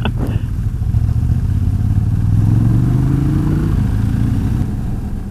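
A motorcycle engine runs steadily on an off-road ride, its low drone rising in pitch as the bike accelerates midway, then easing off, loud and close with no talk.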